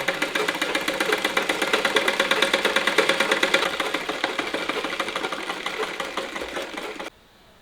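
A sewing machine runs a fancy decorative stitch along an inskirt, its needle chattering in a fast, even rhythm close by for about seven seconds before stopping abruptly.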